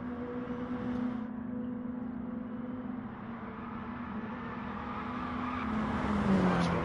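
Mini Cooper race cars at Goodwood Motor Circuit droning past through the final chicane, a steady engine hum at moderate distance that swells louder toward the end, with no talk.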